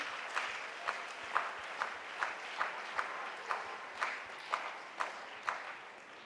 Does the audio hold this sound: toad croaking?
no